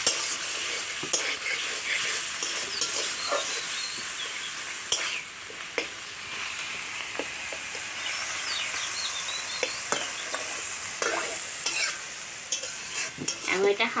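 Bhutto shak greens are stirred and fried gently in a pan, a soft continuous sizzle broken by repeated scraping and clinking strokes of the spatula against the pan, close and steady with no talking.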